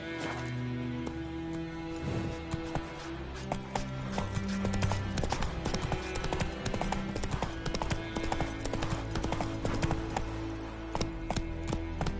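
Roach the horse trots in a video game, with steady clip-clop hoofbeats running throughout, close and clear over a layered game background of tones and ambience.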